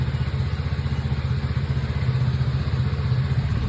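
A motorcycle engine runs at a steady, rapid idle close by, chugging evenly for several seconds with no voices, at a village bus stop where a Sikh religious procession is arriving.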